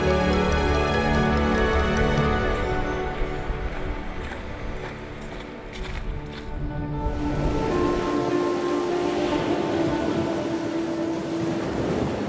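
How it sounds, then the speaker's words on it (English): Sea waves wash ashore beside a holiday house on the west coast of Scotland, a steady close surf roar with wind, while a melodic musical tone runs faintly underneath. "Wherever you are around the house, you can hear the waves."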